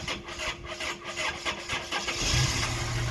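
A 1986 Toyota 2WD pickup with a 22R engine, already warmed up, cranks with a rhythmic starter churn, then fires and settles into a steady, loud idle close by.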